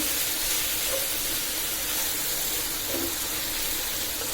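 Long beans frying in a pan with spices, giving a steady, even sizzle and hiss that runs close and unbroken throughout, with no talking.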